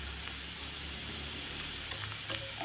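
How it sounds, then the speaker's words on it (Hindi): Capsicum sizzles steadily as it is stirred and fried in a pan while a mushroom paneer curry is cooked, with a constant broadband hiss and a few faint scraping touches near the end. "थोड़ा शिमला मिर्च हिला देते हैं, थोड़ा फ्राई करते हैं"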